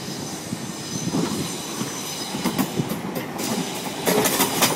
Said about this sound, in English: The approaching train is not scheduled to stop at this station.